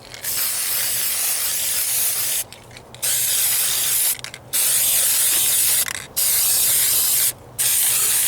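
A paint spray gun hisses in four loud, sustained bursts with short pauses between them as red paint goes onto a patched driver-side floor pan of a Ford Ranger.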